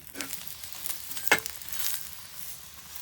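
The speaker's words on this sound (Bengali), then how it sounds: "মনে কর এটা চাপড়ি কিন্তু তেল দিয়ে বাইজা দিতে আছে" Chapri flatbread frying in a small amount of oil in a village kitchen, a soft steady sizzle with a sharper crackling burst partway through, close and continuous with no talk.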